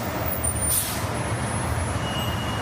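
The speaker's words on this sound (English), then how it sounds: "So there's all these trucks apparently are carrying ballots." Trucks pass on a road with a brief sharp air-brake hiss near the start, over a steady, loud low rumble of traffic.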